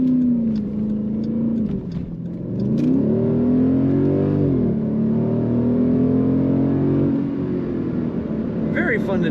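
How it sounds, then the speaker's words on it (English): A 2015 Jeep Grand Cherokee SRT accelerates, its exhaust heard from inside the cabin as a loud, low, continuous drone that swells and shifts in pitch through the run. "This Jeep has a very nice exhaust note."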